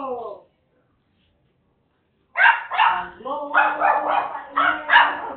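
A Shih Tzu barks and yips repeatedly at close range in an uneven burst of sharp, strained calls after a brief quiet pause.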